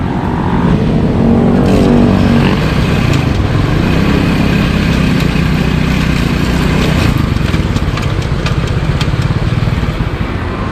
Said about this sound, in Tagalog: i-start ko yung makina tapos ilagay mo sa fourth gear.